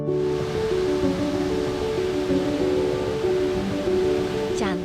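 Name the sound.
waterfall at Geopark Ciletuh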